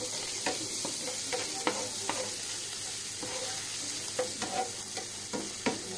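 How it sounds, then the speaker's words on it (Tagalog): Garlic, onion and mushrooms sauté in a frying pan used for burger steak, giving a steady sizzle broken by scattered scraping stir strokes from a utensil at close range. "nagigisa na ako ng bawang dun sa same pan na pinagpirituhan ng burger steak"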